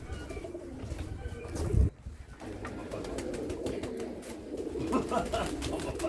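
Soft, low pigeon coos repeat against a steady outdoor background, with a brief thump partway through.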